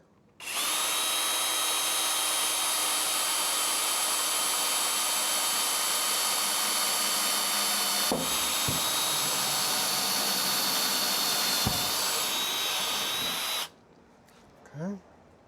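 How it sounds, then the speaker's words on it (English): A loud, close drill runs continuously at high pitch for over ten seconds with a couple of brief bumps, then cuts off abruptly, drilling holes to fit a stainless steel luggage rack on a 1967 Mustang. "drill hole number 2 or 3"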